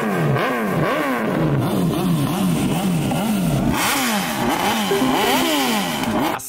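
Several motorcycles rev close by, engine pitches sweeping up and down in repeated overlapping blips, loud and continuous with no speech over them.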